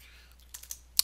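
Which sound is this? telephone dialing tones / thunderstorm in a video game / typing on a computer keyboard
typing on a computer keyboard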